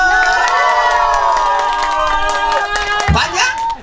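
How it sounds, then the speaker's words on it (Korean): A crowd at a seafood festival in Goseong cheers and shouts in a loud, sustained roar of many voices, with a performer's calls over it and a brief thump near the end. "박수하고 함성 좀 주시오."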